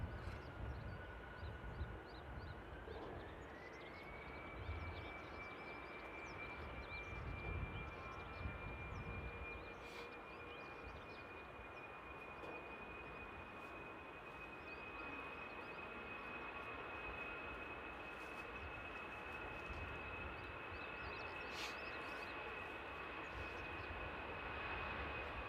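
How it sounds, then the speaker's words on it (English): Airbus A350 airliner arriving at Paris Charles de Gaulle: a faint, distant steady jet engine whine that rises in pitch early and holds, over quiet outdoor ambience, no talk. "now we waited out for the mighty 350 in the background there"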